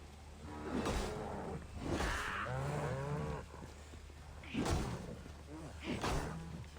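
Cattle in the video game Assassin's Creed Valhalla let out several loud, drawn-out moos spaced a second or two apart, close by, with a voice talking in between.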